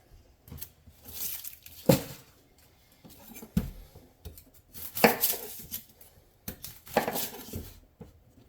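A knife cuts through an onion on a board while it is prepared for elk chili, giving several separate firm chops and tearing sounds of peeled layers spaced a second or so apart, close and otherwise quiet.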